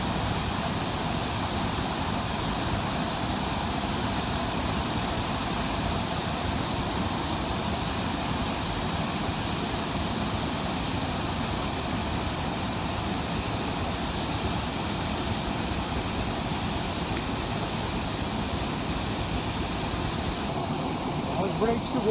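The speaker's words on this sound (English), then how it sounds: "I hope you can hear me over the roar of this water." A waterfall in the Berwyn hills roars in a dense, unbroken rush of falling water heard from close by, loud and constant, with occasional talk beneath it.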